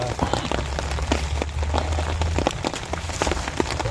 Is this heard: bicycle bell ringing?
no